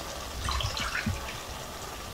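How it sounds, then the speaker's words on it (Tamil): Water poured into a rice pot while making mushroom pulao, a short soft splashing pour with light dripping, heard alone and ending in a brief louder burst. "இப்போ தண்ணி சேர்த்துக்கலாம்."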